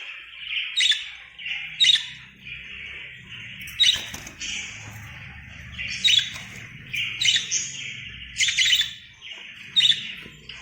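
Lovebirds at a new nest give repeated sharp, high squawking calls in short bursts roughly every second or two, close and clear over a low background hum.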